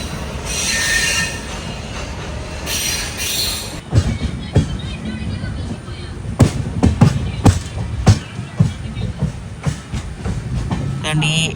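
The Velankanni–Ernakulam Express passenger train rolls on rails with squealing wheels and a run of sharp clacks and thumps that grow denser toward the end, heard from on board over steady rumble.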